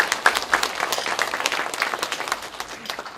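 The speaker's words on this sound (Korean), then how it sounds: "아이들의 케어를 위해서 응원의 박수 부탁드리겠습니다" Audience applause at a political party rally in Ulsan, as a crowd claps in support of mothers from a childhood leukemia and cancer association; steady, dense clapping fills the hall without a break.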